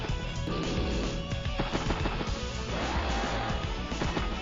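Anti-air gunfire in Advance Wars: Days of Ruin, a dense burst of rapid cracking shots and crashing impacts layered over game music, loud and continuous for several seconds.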